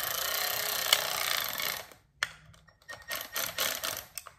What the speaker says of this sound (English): 7mm socket. Slowly, you don't want to over tighten these, slowly lock in each bolt.